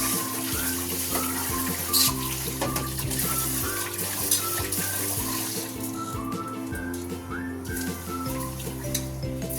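Water runs from a tap at home while rice is washed for cooking breakfast, a continuous splashing trickle heard close by, with faint clinks and background hum throughout.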